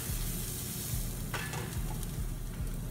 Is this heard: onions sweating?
yes